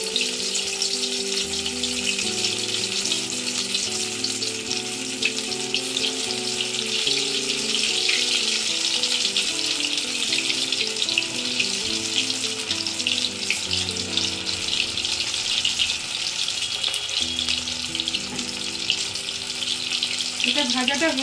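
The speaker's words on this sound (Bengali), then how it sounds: "এরকম দেখুন, এরকম গোল গোল করে আমি ভেজে নেব।" Round paneer and soybean fritters fry in oil in a wok with a continuous, even sizzle that runs for the whole stretch, while a melodic background tune plays softly underneath.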